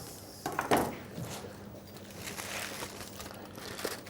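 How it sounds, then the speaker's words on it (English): Plastic wrapping is peeled off a stuffed turkey leg, giving quiet, close crinkling and rustling with a louder crackle early on and scattered softer handling noises after. "Just taking the wrapping off, getting the opening."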